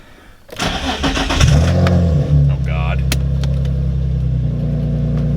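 A Nissan G35 car engine cranks and catches, then settles into a steady, loud idle rumble close by, with a brief exclamation from a person early on.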